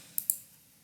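A computer mouse clicks twice in quick succession while placing a column in Revit, sharp, close, quiet taps followed by near-silence.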